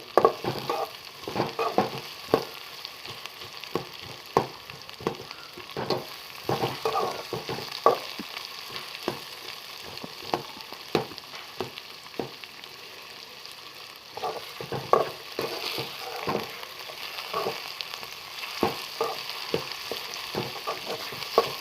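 Potatoes fry in oil in a pan under a steady sizzle, while a utensil stirs them in frequent scraping knocks that come at an irregular rhythm.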